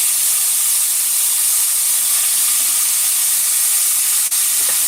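Sofrito with garlic sizzles in hot oil while beef liver is cooked, a loud, constant, close hiss with no break, ending in a brief clatter, with no talking.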